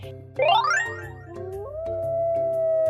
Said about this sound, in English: A wolf is a wild dog that lives in packs and howls to